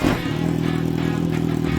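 A Kawasaki Z1000 motorcycle fitted with a V-Lane Shorty full exhaust revs briefly and loudly up close, a raspy, steady burst of exhaust note.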